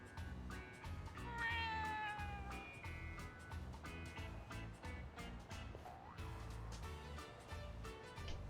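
A cat meows several times, drawn-out and rising cries heard over a rhythmic backing of music, fairly clear and close with no talking.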